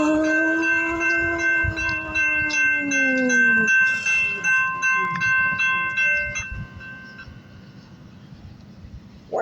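A train moves slowly at night near a crossing, its horn sounding long sustained chords over rumble and clatter that fade after several seconds, ending with a brief sharp burst.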